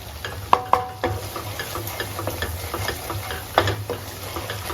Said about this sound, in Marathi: तर हे सर्व मसाले आपल्याला मस्त असं तेल सुटेपर्यंत चांगले परतून घ्यायचे